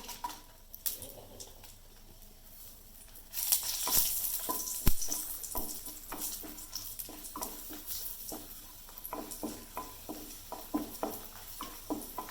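Dried red chilies fry in about two spoons of hot oil in a pan, starting as a faint sizzle and then breaking into a louder crackle with sharp pops and stirring taps, all without speech.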